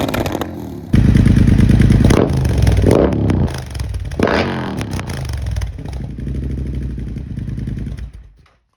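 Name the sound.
Triumph Bobber Black motorcycle engine with Rotrex supercharger running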